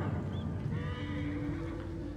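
A horse whinnies in Assassin's Creed Origins, Curse of the Pharaohs DLC, a clear rising neigh over a constant low game ambience, with faint hoof clip-clop underneath.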